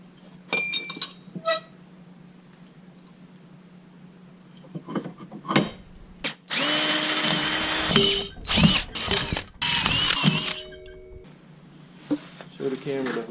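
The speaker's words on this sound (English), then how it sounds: "I'm thinking we drill holes through it, and then we wrap it in steel wool." A power drill bores holes through an aftermarket exhaust silencer for a Honda Civic EF hatchback, several loud whirring bursts with metallic clinks and pauses between them, close to the microphone.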